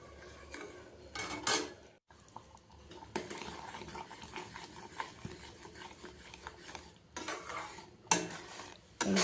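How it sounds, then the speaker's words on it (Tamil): Bread halwa being stirred in a pan, with utensil scraping and clinking against metal coming in bursts, some louder clatters at the start and near the end, no voices. "அது வரைக்கும் கை விடாமல் கிண்டிகிட்டே இருக்கணும்."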